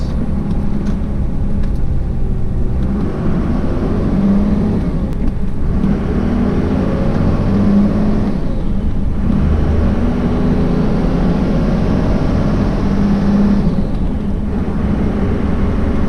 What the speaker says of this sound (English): So, and then the same goes for downshifting. All right, so here we go. Go through the gears.